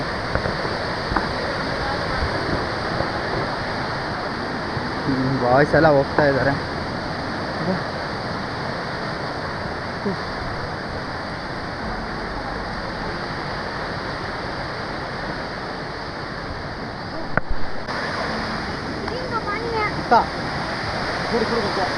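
Hebbe Falls in Chikmagalur runs in heavy flood after rain, a loud, steady roar of rushing water filling the whole clip, with someone talking briefly over it.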